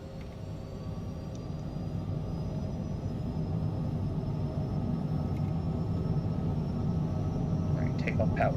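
Twin jet engines of a Cessna CJ4 in Microsoft Flight Simulator 2020 spool up to takeoff power, a steady rumbling roar building gradually across the whole stretch, with a faint high whine above.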